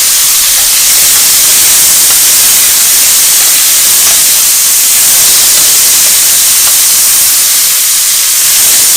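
Shrimp sizzling hard in a hot pan for honey garlic shrimp, a loud, continuous, even hiss close up with no talk over it.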